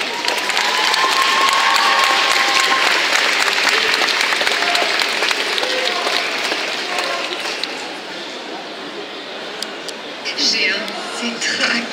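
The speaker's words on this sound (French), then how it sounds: "applaudit très très fort." A crowd claps loudly and steadily for a cosplay contest performance at a convention, the applause fading gradually toward the end.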